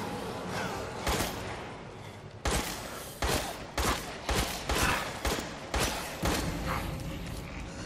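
Rapid bursts of gunfire in the horror game Resident Evil Village, loud, close shots coming in quick uneven volleys with brief pauses between them.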